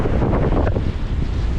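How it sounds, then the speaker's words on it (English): Strong gusty wind on a lakeshore beach, roaring and buffeting the microphone in a constant rush, with a faint wash of surf underneath. "And it's supposed to keep blowing, but the wind is supposed to moderate later on."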